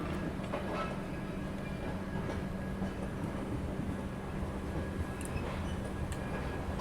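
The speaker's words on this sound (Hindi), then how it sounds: "हमारी ट्रेन अब नॉन स्टॉप रन करेगी" The 22462 Shri Shakti AC Express runs nonstop after leaving Ambala Cantt Junction on its route from Katra to New Delhi, giving a steady, even rumble with faint rail clatter and no voices.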